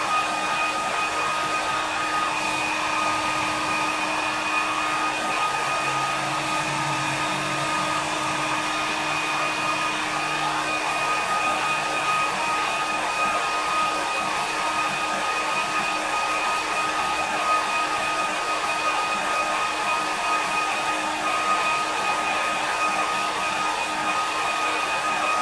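A hair dryer runs continuously while drying a watercolour landscape painting, with a steady, loud, even whoosh and a fixed motor whine that holds for the whole stretch and no talking.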